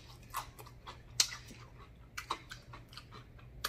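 Close, soft chewing and occasional crisp bites of a Moe's Southwest Grill steak quinoa bowl with guacamole, irregular mouth sounds over a quiet low hum.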